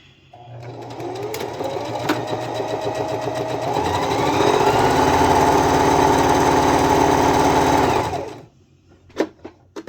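A sewing machine stitching a test run on scrap terry cloth, with a close mechanical whir that rises in speed and then holds steady for several seconds before stopping, followed by a few light clicks.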